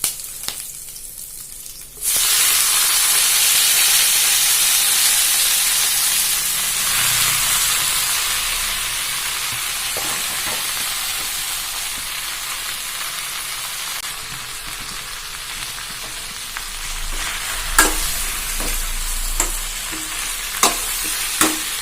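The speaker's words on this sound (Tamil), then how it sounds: "இது நல்லா வதக்கி விட்டுக்கோங்க." Manathakkali greens sauté over high heat in a pan with urad dal and green chili, a loud continuous frying hiss starting abruptly and holding near, with occasional stirring clicks toward the end.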